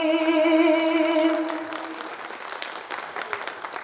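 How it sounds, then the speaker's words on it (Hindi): Sparse, weak applause from a mushaira audience in Mahabubnagar, Telangana follows a held, sung voice and patters on unevenly at moderate loudness. "कमजोर ताली बज रही है।"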